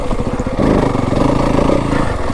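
A Yamaha WR 250F dirt bike engine drones steadily while riding Kelly Canyon single track, a close, loud, rough mid-pitched thrum that swells slightly partway through.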